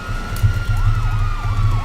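Police car siren from GTA 5, a wailing electronic tone sweeping up and down repeatedly over a steady low engine rumble, loud and close throughout.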